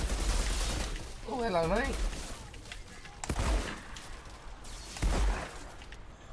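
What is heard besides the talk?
gunfire in the video game Outriders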